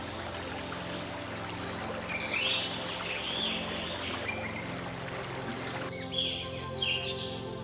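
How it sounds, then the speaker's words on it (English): Hundreds of Amazon parrots chirp in a bustling, high-pitched chorus echoing through a forest, with a steady rushing wash like flowing water beneath the scattered calls. "the high-pitched, bustling chirping of hundreds of Amazon parrots, echoing through the sky like a jungle song"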